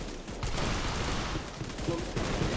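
Video game gunfire sounds in rapid, dense bursts that run for the whole couple of seconds at a steady, fairly loud level.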